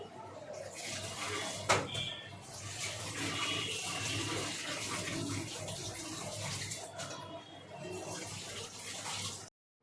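Kitchen tap water runs steadily while vegetables are washed beneath it, a close, continuous splashing rush with brief clatters and shifts in flow, stopping abruptly at the end.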